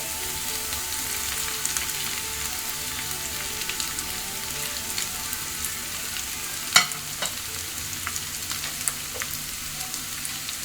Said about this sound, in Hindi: अदरक लहसुन के पेस्ट को अच्छे से भूनने के बाद मैं इसमें आधा किलो बॉईल किया हुआ चिकन ऐड कर रही हूँ